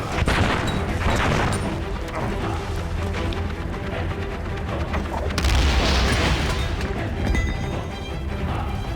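Grenade explosions and gunfire in the video game Valiant Hearts, a dense, continuous barrage of booms and shots at close range, loud throughout with heavy low rumble and no pauses.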